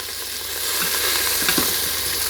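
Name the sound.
food browning and sizzling in a pan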